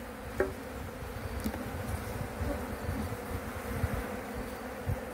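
Honeybees buzzing steadily around an open hive frame during a hive inspection, a dense continuous drone close by with a few brief knocks and handling sounds.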